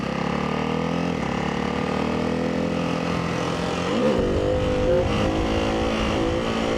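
A supermoto motorcycle, a Ducati 698 Mono or KTM 690 SMC, holds a loud, steady engine drone during a stand-up wheelie, the pitch wavering and climbing near the end.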